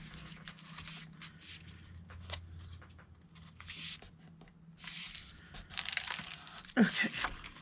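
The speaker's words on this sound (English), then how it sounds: "there's some crunchy paper in that one" Crisp, crunchy paper crinkles and rustles as it is folded into a pocket for a watercolor flower journal, close up, with a sharper crackle near the end.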